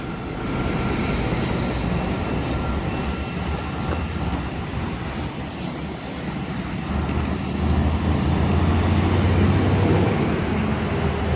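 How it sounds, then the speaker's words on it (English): An S-set asset transfer train hauled by locomotive 8159 rolls past, a loud sustained rumble of wheels and wagons with a faint high squeal, growing heavier toward the end. "here comes the asset transfer on its way to Chiloa"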